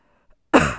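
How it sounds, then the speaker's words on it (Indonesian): A single sudden cough bursts out after near silence, short and close. "Aduh, batuk."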